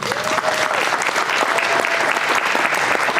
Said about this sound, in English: I'd like to give them a round of that applause.